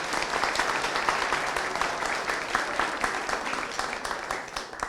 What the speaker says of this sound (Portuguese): Salva de palmas para ela também.